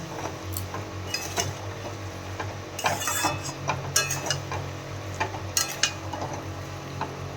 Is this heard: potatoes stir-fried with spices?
yes